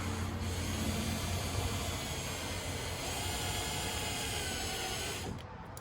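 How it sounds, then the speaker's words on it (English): A power drill runs continuously while boring a hole in a madrone wood cabinet knob, a close, steady whirring hum that stops abruptly near the end, with no talking. "let's drill a hole and put a screw and mount it"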